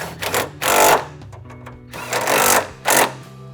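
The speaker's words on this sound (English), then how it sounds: "we can just start threading it in. And then we can go ahead and tighten everything down" Bolts being tightened with a power tool while fitting a CBI T3 high-clearance rear bumper, heard as several loud, buzzing bursts of ratcheting whir broken by short pauses and lighter clicks, close by.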